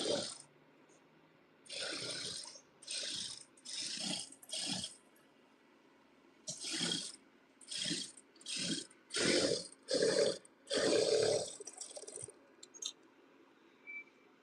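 A sewing machine stitching the neck of a lined blouse, running in a dozen short mechanical bursts of rapid clattering separated by pauses, close and clear, without any talk.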